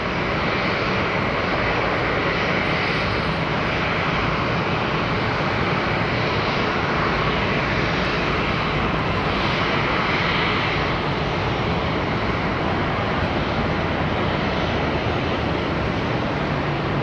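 A Southwest airliner departing Charlotte Douglas airport, its jet engines a loud, steady, broadband roar that holds constant throughout with no voices.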